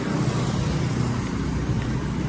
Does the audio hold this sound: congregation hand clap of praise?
no